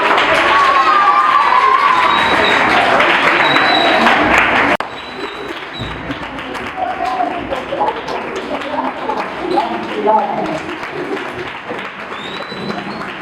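A school audience at a nursery and primary boarding school debate event claps loudly, a dense burst of applause and cheering that drops sharply partway through to lighter scattered clapping with some crowd noise.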